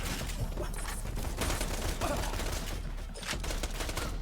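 A gun in the video game Borderlands 2 fires in rapid, dense rattling bursts under a constant low rumble of game noise, fairly quiet overall.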